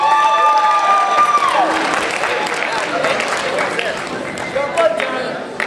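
A crowd at a 2012 high school wrestling match between Olympus and Herriman applauds the referee, a broad, sustained wash of clapping and cheering with an announcer's voice over the opening moments.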